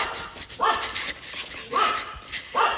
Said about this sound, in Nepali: गाइस यस्तो हतार भइरहेको छ कुकुर भुकेर